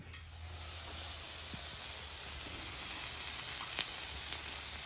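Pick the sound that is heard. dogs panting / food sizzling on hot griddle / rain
food sizzling on hot griddle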